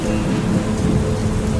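Video game thunderstorm with steady heavy rain and a low rumble of thunder, loud and continuous throughout with no voices.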